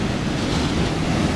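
Sea waves roll and wash near boats at the shore, a loud continuous surf rush mixed with wind buffeting the microphone, no voices.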